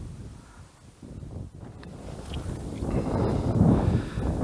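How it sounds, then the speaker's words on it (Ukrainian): Strong, gusty wind buffets the microphone beside a weedy pond during March ultralight fishing from a boat, a continuous low roar that swells in harder gusts toward the end, with no talk. "Вітерець, друзі, дує ого-го. Такі пориви до 14-15 метрів за секунду."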